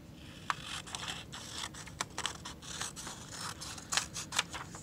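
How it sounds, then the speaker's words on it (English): Scissors snip through a strip of paper being trimmed into a triangle for paper beads, close and crisp, a rapid series of short cuts and scrapes with no speech. "I'm going to cut that off."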